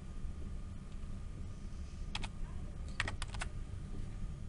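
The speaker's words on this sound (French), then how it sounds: "Je tape le nom de ma vidéo." Typing on a computer keyboard while entering a project name in video-editing software: a few quiet, quick clusters of key clicks near the middle and end over a low background hum, with no talking.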